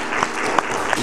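Dense clapping from a church congregation fills the moment, a continuous patter with a few sharper claps standing out.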